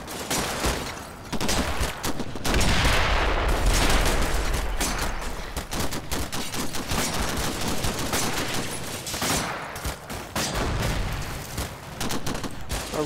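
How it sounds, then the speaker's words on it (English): Rifle grenade blasts and bursts of gunfire from a Combat Mission Final Blitzkrieg battle rumble continuously, with a heavy close explosion early on and dense, crackling shots throughout. "Rifle grenade up close."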